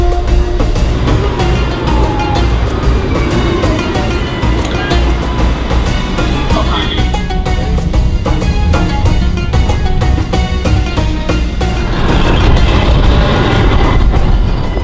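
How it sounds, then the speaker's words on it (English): Istanbul tram in motion, heard from onboard as a loud continuous rumble with rapid rattling and clacking, wheel squeals and a swell in noise near the end. "So we just took the tram here in Istanbul for the first time."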